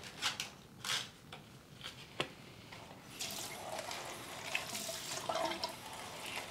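Water runs steadily from a tap as alocasia plant roots are rinsed over a sink, with scattered splashes and drips early on before a fuller, continuous rush of water.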